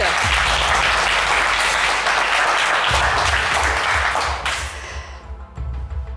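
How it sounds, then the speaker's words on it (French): Studio audience applause on a televised game show, dense, loud clapping with a low music bed underneath that thins and fades out near the end as the room settles. "sous les applaudissements du public"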